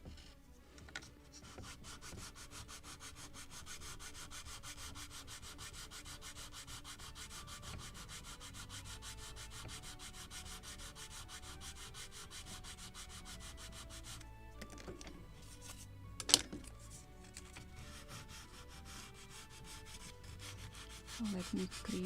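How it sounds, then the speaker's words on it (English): Hand sanding on a wooden frame of a 1776 gunboat Philadelphia model ship, steady close rhythmic rubbing strokes that continue throughout, with a brief sharp knock partway through and no talking. "Maybe a little more sanding on this frame."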